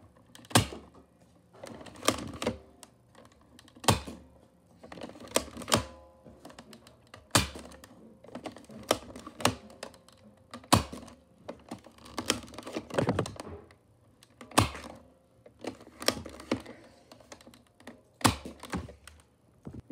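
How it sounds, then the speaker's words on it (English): A Nerf Maverick toy blaster fires foam darts in a firing test, giving a string of sharp, separate thunks and clacks spaced every second or two, close by with priming and handling sounds between shots. "In this firing test, we'll be shooting at Nick Cage."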